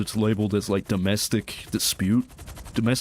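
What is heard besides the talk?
None of the usual background noises is heard.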